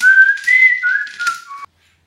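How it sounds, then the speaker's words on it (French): A person whistles a short, bright tune alone, several clear sustained notes sliding between pitches up close, ending abruptly after about a second and a half before silence. "Pour commencer une journée, il faut toujours siffloter un petit peu."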